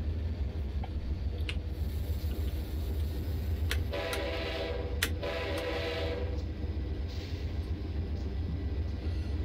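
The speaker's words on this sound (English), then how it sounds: "Wait for that freight train to go by before we can go." A freight train rolls past in Train Simulator 2019, a steady low rumble with a brief burst of brighter clanking and rattling midway, heard alone with no talk.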